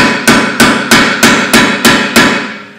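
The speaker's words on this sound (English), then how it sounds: "And then I'm going to whack it in with a hammer." Eight evenly spaced, sharp metallic hammer blows ring out in a steady rhythm, close and loud, as a part is whacked into a Ford's rear brake and suspension.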